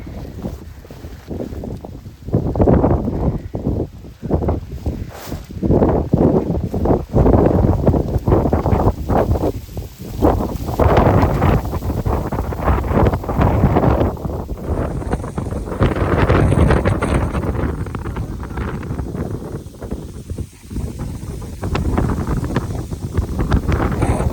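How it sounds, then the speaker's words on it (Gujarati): Strong wind from a small storm roars across farmland and buffets the microphone in heavy, continuous gusts, with a rushing, flapping quality throughout and no talking. "અત્યારે ફૂલ પવન આવે, આમ જોઈ શકો તમે"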